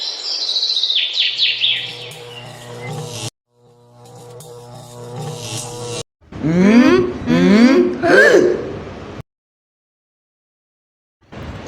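Sparrows chirp and call in rapid, high twittering bursts, busy and close in the opening seconds, then thinning out as a voice speaks over a quieter stretch before silence falls.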